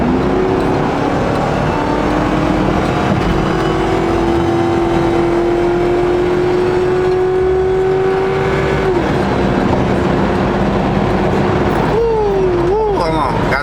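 A car fitted with an OBD2 tuning chip accelerates on a road by a lake; its engine drones loudly and climbs steadily in pitch, drops off, then revs up briefly again near the end.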